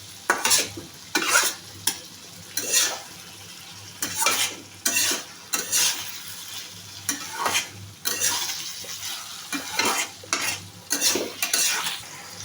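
A cabbage and tangra fish curry is stirred in a pan, with repeated rhythmic scrapes of a spoon over a soft, steady sizzle.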